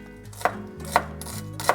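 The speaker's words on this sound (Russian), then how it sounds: "Пол-пучка душистого укропа нарезаю мелко." A knife chops half a bunch of fresh dill finely on a board, three crisp evenly spaced strikes, close and clear with no talking.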